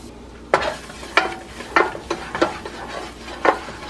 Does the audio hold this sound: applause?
no